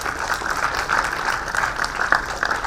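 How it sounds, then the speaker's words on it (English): Audience applause at a fintech conclave, a continuous patter of many hands clapping at a moderate level for a few seconds. "Can we have a round of applause, please?"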